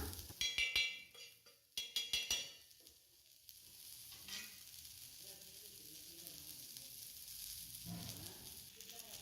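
Small shallots, finely chopped, sauté in hot oil with mustard seeds for a village-style fish curry, giving a steady close sizzle after a few sharp crackling bursts at the start, with no voices.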